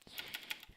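Quick taps on a computer keyboard spacebar, several light clicks in rapid succession over less than a second, close and faint.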